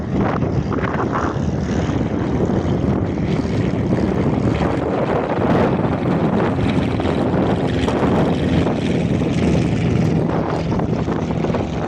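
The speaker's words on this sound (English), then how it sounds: "Airfield trainer going around for a second attempt" A training aircraft goes around at an airfield on a windy day, its steady propeller engine drone filling the whole stretch under heavy wind buffeting on the microphone.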